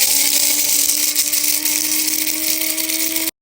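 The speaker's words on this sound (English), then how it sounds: "We need mahlab, 1 big tablespoon, and I'm gonna grind it" An electric spice grinder whirs steadily as it grinds a tablespoon of mahlab seeds to powder for Easter cookies, a loud, constant high-pitched motor whine that holds for a few seconds and then cuts off abruptly.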